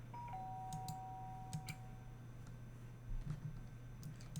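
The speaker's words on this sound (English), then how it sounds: "The sharp sound of the doorbell pierced my sleepy haze and pulled me back to the real world." A doorbell chimes in the DanganRonpa Trigger Happy Havoc video game, a clear electronic ding tone followed by a quieter held note, with faint clicks and ticks behind it and no voices.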